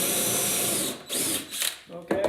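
A drill bores a countersink about halfway through a wood board, giving a steady high whine that cuts out briefly twice and restarts, with a short burst near the end.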